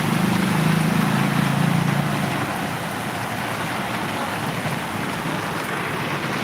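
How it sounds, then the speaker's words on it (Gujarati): Heavy rain pours steadily in Botad, a dense broadband hiss of drops on surfaces that stays loud and constant, with a low rumbling hum under the first two seconds and no talking. "ખૂબ વરસાદ સરસ વરસાદ છે હા વરસાદ ચાલુ જ છે અત્યારે"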